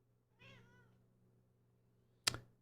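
A cat gives a single short meow, faint and somewhat distant, over a low hum, followed by a brief sharp knock.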